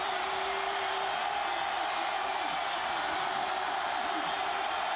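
A football stadium crowd roars steadily to distract the offense during a college game between Marshall and East Carolina, a dense, continuous wash of noise with a commentator talking over it.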